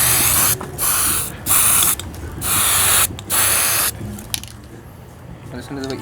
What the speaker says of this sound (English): You see how the spray is moving when it lands